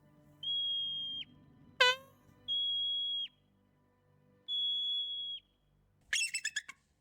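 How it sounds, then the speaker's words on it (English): An eagle calling: three long, steady high whistles alternate with shrill, rapid chattering bursts, fairly faint and clear with no talking. "I love the eagle sound."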